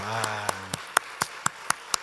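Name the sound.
congregation applauding in church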